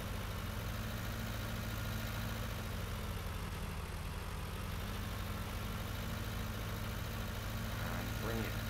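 A tractor engine in the Farming Simulator 19 video game hums at a steady idle, a constant low mechanical drone with no change in pace.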